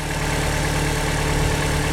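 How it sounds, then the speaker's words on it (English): A car engine idles steadily just after a cold start on a winter morning at home, a continuous close, even rumble with a low hum and no other sounds. "listen to that engine"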